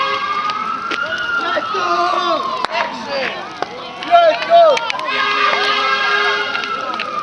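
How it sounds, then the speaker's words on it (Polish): Wailing fire engine sirens rise and fall in the distance as they approach, overlapping with each other, while voices and crowd noise carry on nearby at a car fire-extinguishing demonstration. "Jak się dobrze słuchacie, to już słychać sygnały strażackie."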